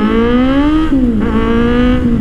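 A Kawasaki Z800 motorcycle engine revs hard, its loud close-up tone climbing in pitch, dipping briefly at a gear change, then rising again.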